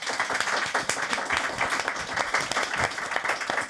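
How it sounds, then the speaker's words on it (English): A conference audience gives a warm round of applause for the panelists, a dense, steady patter of many hands clapping close by for a few seconds. "if you can give a round of applause for our panelists"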